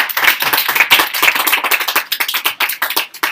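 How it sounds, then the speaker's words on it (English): Classroom applause, a small group of students clapping close by with fast, slightly uneven hand claps that keep up for several seconds and thin out near the end. "Give him a round of applause."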